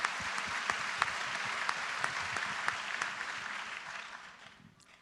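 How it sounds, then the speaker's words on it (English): An audience at a political event applauds, with dense sustained clapping and occasional louder individual claps, tapering off in the final second. "There's been a lot of applause"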